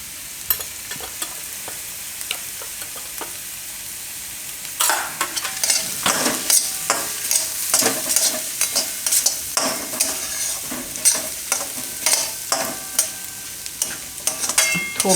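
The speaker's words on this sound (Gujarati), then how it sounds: "તો ખાલી શાકભાજી આ રીતે થોડુંક મિક્સ કરી લેવાનું, થોડીક વાર પકાવી લેવાનું એમ" Mixed vegetables for a veg lasagna stirred in a pan with salt, turmeric and red chilli: quiet soft scraping at first, then steady sizzling frying broken by repeated spoon scrapes and clinks, close and alone.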